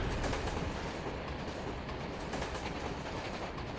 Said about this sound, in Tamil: ட்ரெயின் டனல்குள்ளே போயிடுச்சுப்பா.